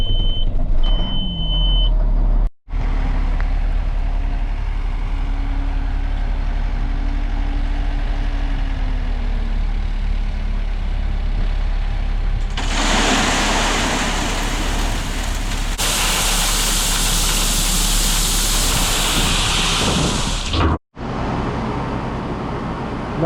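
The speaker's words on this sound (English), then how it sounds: "I'm taking out the dump truck" A dump truck engine runs at a steady idle close by, a continuous low rumble with a stretch of louder broadband hiss partway through.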